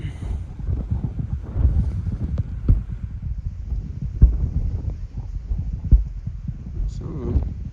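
Strong mountain wind of about 30 mph buffets the microphone on an exposed Appalachian Trail climb near Mount Madison, a continuous low rumbling roar with sharp gusty thumps throughout.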